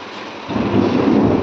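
A deep rumble of thunder swells up and rolls on steadily, loud and heavy, with no voices.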